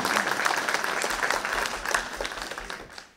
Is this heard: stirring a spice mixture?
no